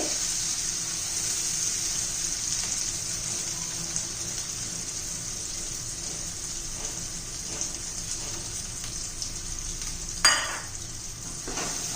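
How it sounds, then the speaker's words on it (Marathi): Spice paste sautéing in hot oil for patvadi, a steady dense sizzle with occasional stirring scrapes and a brief louder clatter near the end, close and continuous without talk. "आता हे पेस्ट करून केलेली घालून घेऊया आपण चांगलं तेल सुटेपर्यंत आपल्याला परतून घेते"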